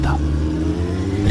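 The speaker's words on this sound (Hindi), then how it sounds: "विजू अपनी बाइक चला रहा था।" A motorbike ridden at night along a dark, winding, potholed road gives a steady, loud low engine drone that swells slightly near the end.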